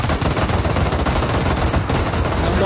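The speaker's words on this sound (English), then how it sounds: "They're shooting at the sky." Sustained automatic gunfire in the PUBG battle royale game, a dense continuous rattle of rapid shots filling the whole stretch at steady loudness, with no talking.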